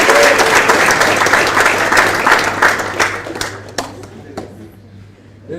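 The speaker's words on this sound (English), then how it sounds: "So if we could give them a quick round of applause." Audience applause at a South African tag rugby capping ceremony, a steady wash of many hands clapping that starts loud and gradually thins and fades toward the end, with a few scattered claps left.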